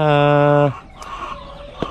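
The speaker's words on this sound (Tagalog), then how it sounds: "So ngayon magpapakain na tayo ng aking mga alagang manok." Pet chickens at feeding time give a loud drawn-out call up close, followed by softer scattered clucks and small noises.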